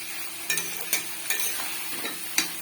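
Onion fries in a pan for a yogurt chicken curry while a spoon stirs it, giving a soft continuous sizzle broken by several distinct scraping strokes at an uneven rhythm, close and fairly quiet, with no talking.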